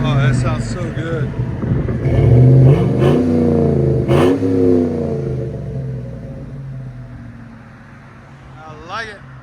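Deep exhaust rumble from a Chevy Tahoe 5.3-liter V8, revved up hard several times in close succession, then easing back to a lower idle, with a voice briefly over the engine.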